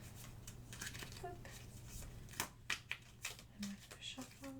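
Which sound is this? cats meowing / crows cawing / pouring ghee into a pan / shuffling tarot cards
shuffling tarot cards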